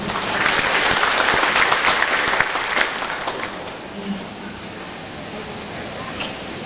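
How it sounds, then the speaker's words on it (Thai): An audience at a Thai university earthquake seminar claps to welcome the university president, loud dense applause that gradually fades into quieter room noise. "ขอเสียงปรบมือต้อนรับท่านอธิการบดีด้วยค่ะ"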